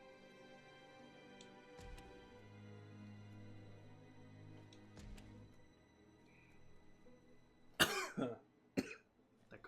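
A few sharp coughs burst out near the end, loud and close, after a quiet stretch with faint hum and soft thuds.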